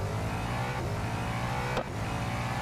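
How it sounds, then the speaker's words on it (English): A race car engine in the Real Racing 3 mobile game holds a loud, steady high-revving drone with rich harmonic tone, briefly dipping and rising in pitch around a gear change near the end. "And the engine, just listen to that engine."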